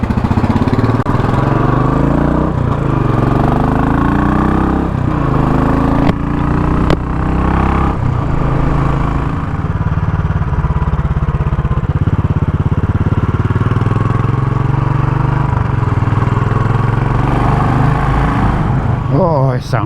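A Royal Enfield Classic 500 motorcycle engine drones loudly and continuously while riding through a city centre, with wind rumble and occasional rising revs, and a voice speaking briefly over it.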